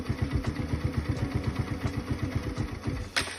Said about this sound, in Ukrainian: крутимо до тих пір, поки мотоцикл не заглохне